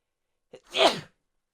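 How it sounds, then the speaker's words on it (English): A single sharp sneeze, close and fairly loud, with a brief intake of breath just before the burst and nothing else around it. "Hang on, I'm going to sneeze."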